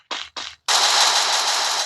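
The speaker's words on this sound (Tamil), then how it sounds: "சுடுற சத்தம் தான் கேக்குதே." Gunfire in the mobile video game Free Fire: two short separate bursts, then a sustained loud stream of automatic shots that cuts off abruptly.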